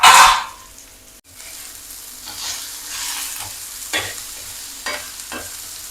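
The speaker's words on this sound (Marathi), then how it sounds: "कांदा खूप सुंदर असा फ्राय सुद्धा झालेला आहे" Chopped onions fry in a hot pan with a little salt until golden, sizzling steadily while a spoon scrapes and stirs through them in several distinct strokes, loudest at the start.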